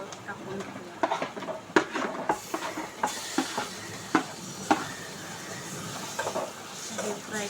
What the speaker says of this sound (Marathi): आता ह्याच्यामध्ये आपण हे वांग टाकून घेऊया.